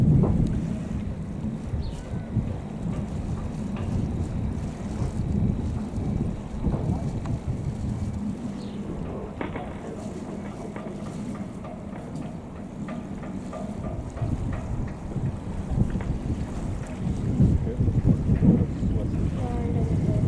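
Container ship MSC Amy passing on the Elbe off Cuxhaven at about 13 knots, a steady low engine rumble and water wash heard from the shore, heavily buffeted by wind noise on the microphone throughout.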